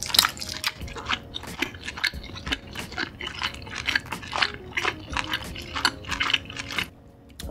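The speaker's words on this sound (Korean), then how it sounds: "나시고랭 떡볶이부터 먹어볼게요" Close, wet chewing and biting of chewy rice-cake tteokbokki made nasi goreng style with sausage, with intermittent crunches and light utensil clinks against a dish; no talking.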